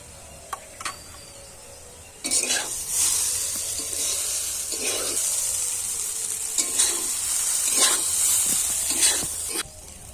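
Boiled chowmein stir-fried with salt, turmeric and chilli powder in a kadai, a loud continuous sizzle that swells with repeated stirring and tossing scrapes, close by and uninterrupted by talk.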